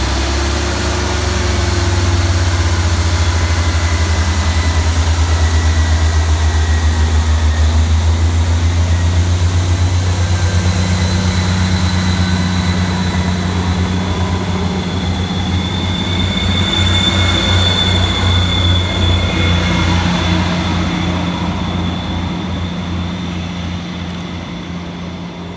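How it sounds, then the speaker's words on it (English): Scotrail Class 158 diesel multiple units pull away from Inverkeithing station on the Fife Circle, a loud, steady engine roar with rumbling wheels and faint squeal building as the pair departs, fading slightly toward the end. "Next up to depart for the station is 158-734 and 158-702, working the 1723 Scotrail service from Perth through to Edinburgh Waverley."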